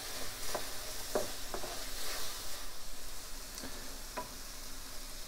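Apples and honey bubble and sizzle in a pan as they cook down into caramel, a soft steady frying hiss broken by occasional light stirring clicks, close and fairly quiet with no talking.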